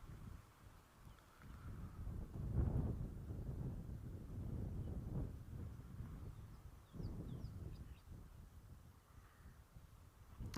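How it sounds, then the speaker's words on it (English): Strong, constant wind buffets the microphone in a low, rumbling roar that surges and eases, fairly faint overall, with no voices. "we've got more than a breeze and a relatively strong wind blowing at the moment"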